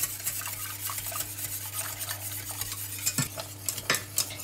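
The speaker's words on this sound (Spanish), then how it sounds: "Lo llevamos al fuego y a una temperatura media y sin parar de remover vamos a esperar hasta que comience a hervir." Steady scraping of a spoon or whisk stirring pastry cream in a pot over medium heat on the stove, with faint sizzling and a few sharper clinks near the end, continuous and close.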